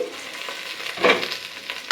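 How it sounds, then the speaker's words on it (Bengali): Potatoes fry softly in a pan, a steady crackle with a couple of brief louder bursts, as if the potatoes are being moved. "এই যে এখন আমার আলু ভাজা হয়ে গেছে"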